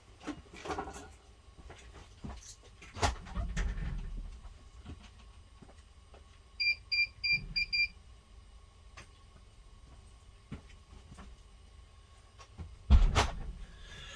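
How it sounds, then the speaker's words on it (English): A short burst of quick, high electronic beeps from a Hikvision DVR alert sounds in a quiet room, surrounded by scattered soft knocks and handling noises. "We will get a bleep from the DVR and a notification through to the mobile."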